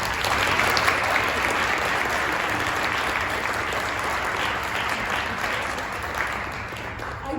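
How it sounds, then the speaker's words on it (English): A big round of audience applause for club staff at a 2024 Meet the Leaders event, steady and full from start to finish, a dense crowd of clapping hands with no pauses. "a big round of applause for our staff"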